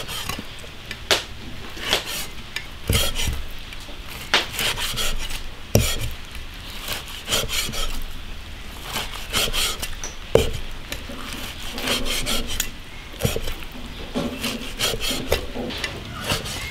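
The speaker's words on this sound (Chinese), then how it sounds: "猪肚切厚片。" A knife cuts washed pork tripe into thick slices on a board, giving sharp, irregular chopping knocks with scraping in between, close and fairly loud, with no voices.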